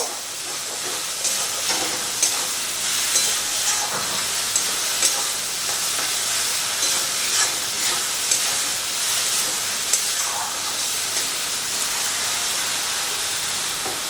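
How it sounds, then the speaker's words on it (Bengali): Green banana peel frying in a pan gives a loud, steady, close sizzle and hiss throughout, with occasional light clicks from stirring and no voices. "তো সব কিছু দিয়ে এবারে এই খোসাটাকে খুব ভালো করে ভেজে নেব"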